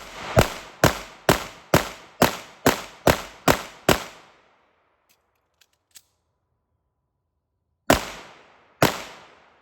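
Pistol shots from a Staccato C2 2011 on a range: a rapid string of nine sharp, loud cracks at an even pace, a pause with faint small clicks, then two more separate shots.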